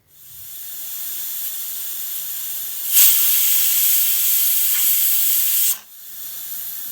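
Loud, sustained hissing of steam bursts out of a pressure cooker whistle in a steady rush for a few seconds, then cuts off abruptly.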